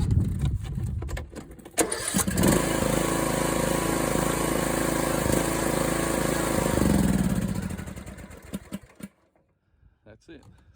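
A 2018 Troy-Bilt Pony riding mower's Briggs & Stratton engine, with a carburetor fuel problem, sputters, catches and roars loudly for several seconds, then winds down and cuts out, followed by a few scattered clicks.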